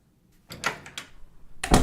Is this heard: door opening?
yes